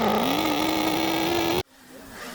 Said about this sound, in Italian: Noi scaldiamo il motore prima della partenza